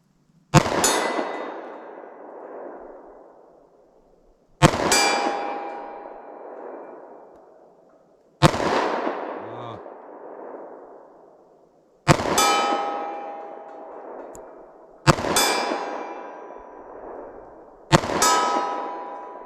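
A .45 ACP revolver fires six widely spaced shots at a steel target, each a sharp loud crack with a ringing metallic clang that decays over a couple of seconds before the next round.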